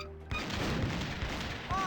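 Cannon fire in the video game The Curse of Monkey Island: a heavy boom breaks in suddenly, followed by a loud rumbling crash that carries to the end.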